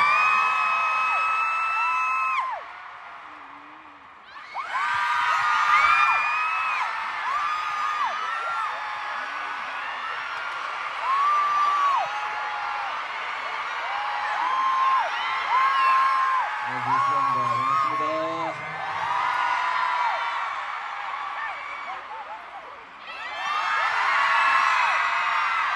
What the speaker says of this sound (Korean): 함성 콘서트네요